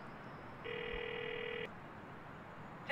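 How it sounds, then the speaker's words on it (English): In Grand Theft Auto IV, a phone ring plays while calling the character Francis: one steady electronic ringing tone lasting about a second over low background hum, followed by a faint click. "You can actually call Francis, and when you call Francis, he'll actually pick up the phone down there."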